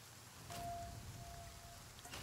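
Rain in The Flame in the Flood video game, a steady soft hiss of falling rain with a faint tone sustained briefly in the middle, quiet and continuous.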